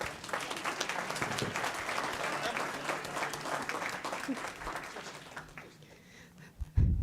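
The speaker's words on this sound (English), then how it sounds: "would love to give her a round of applause, ladies and gentlemen." An audience at a school board meeting gives a warm round of applause for an honored student, dense clapping that carries for several seconds before tapering off, followed by a brief thump.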